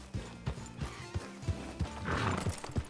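Horse hooves clop in a steady rhythm with a whinny rising near the end, close and moderately loud, from the Red Dead Redemption 2 video game on a ranch.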